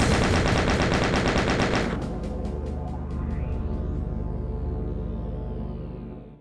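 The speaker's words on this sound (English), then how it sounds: "The chain gun now lets you mow through the enemies with a large hail of bullets." A chain gun firing in the video game DOOM, a loud rapid stream of shots for about two seconds, then a slower run of rhythmic bursts with ringing echoes before it cuts off.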